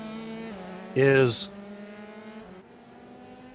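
A race car at WeatherTech Raceway, Laguna Seca, the number 9 machine in a racing-school championship, whines past in a loud burst of engine and tire noise, heard beneath a commentator's continuous talk.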